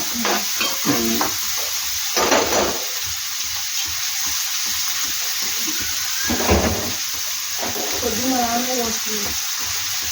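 Onion and green chillies fry in a pan, a steady close sizzle running throughout with occasional stirring scrapes, while people talk intermittently over it.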